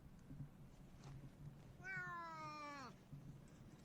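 A single cat meow, a rising-then-falling call lasting about a second, stands out over a steady low background hum with faint clicks.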